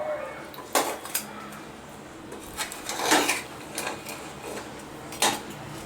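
A metal spoon scrapes and clinks against a cooking pot while crab biryani is mixed, with a few sharp knocks and softer scraping strokes at irregular intervals, close and fairly quiet.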